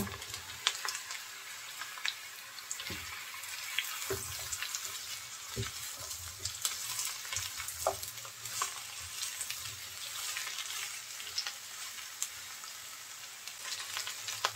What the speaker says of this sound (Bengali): এখন এই পেঁয়াজের মধ্যে ঝিঙে দিয়ে দেব